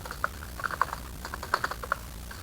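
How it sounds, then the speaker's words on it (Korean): Keys clatter on a computer keyboard as text is typed into a table during a word-processing class, a steady run of light, close clicks in short bursts with no talking. "거기에 있는 내용 타이핑 하세요"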